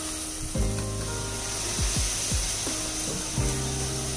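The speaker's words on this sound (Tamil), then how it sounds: "ஸோ நல்லா எண்ணெய் பிரிஞ்சு வரணும் அந்த அளவுக்கு வதங்கட்டும்" Masala frying in oil over full flame in a home kitchen, a steady close sizzle with a few scraping strokes of a spoon against the pan, no talk.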